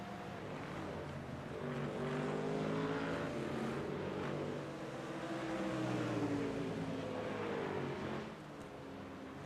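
Several GT3 race cars circle Laguna Seca in a sim racing game, engine tones droning and rising and falling steadily for the whole stretch, loud and continuous with no talk.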